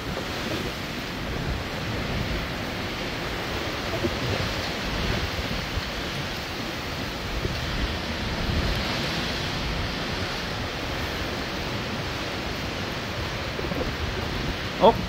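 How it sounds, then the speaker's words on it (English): Ocean waves crossing the North Atlantic in poor visibility, a broad continuous wash of surf and wind noise rushing steadily throughout, close and enveloping, with no voices heard over it. "you can hear the waves"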